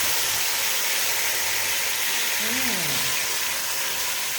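Lamb meat goes into a hot cooking pot and sizzles with a steady, loud broadband hiss, while a voice rises and falls briefly over the frying noise.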